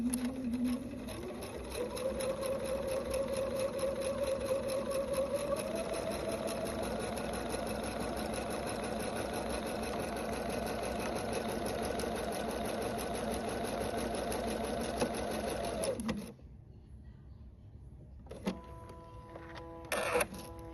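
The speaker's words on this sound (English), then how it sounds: "Now I'm going to run them through the machine and sew along the black line." A sewing machine runs steadily for about sixteen seconds, stitching quilt block pieces for star block panels along a marked line, a continuous close mechanical whir that stops abruptly, followed by quiet handling noises.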